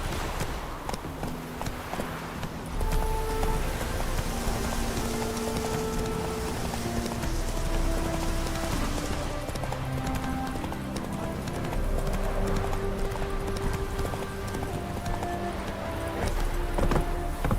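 Roach the horse's hooves clip-clop steadily through a game of The Witcher 3, a continuous trotting rhythm under layered game music with a faint whinny.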